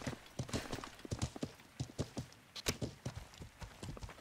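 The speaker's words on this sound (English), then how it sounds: "please tell me you're not riding around on a regular horse" Horse hooves in a video game, a quick run of sharp, clear clip-clop beats at a galloping rhythm, fairly close and without talk.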